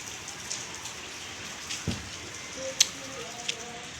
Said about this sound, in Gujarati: આજે તો વરસાદ આખો દિવસ ચાલુ ચાલુ રહેશે